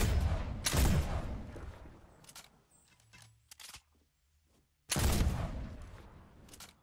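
Two loud bursts of pistol gunfire in Fortnite separated by quieter clicking and mechanical sounds, with a brief near-silent gap before the second burst.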